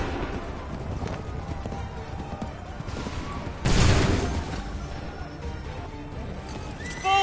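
A musket volley in Assassin's Creed III erupts as one loud, broad crack amid battlefield ambience with faint hoofbeats and movement, and a second burst begins at the end.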